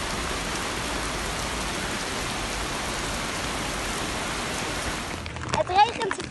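Heavy rain pours steadily in a dense, even hiss outdoors during a walking event, then gives way to rustling and handling noises near the end.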